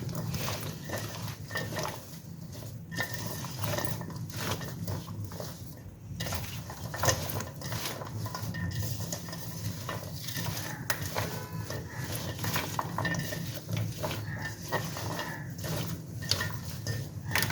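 Homemade potato fries tossed with cornflour in a bowl, giving steady close scraping, clinking and stirring sounds throughout.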